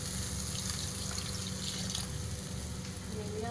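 Water is poured slowly into sizzling cooked masala for a raw banana kofta curry gravy, giving a continuous hissing, bubbling fry close up.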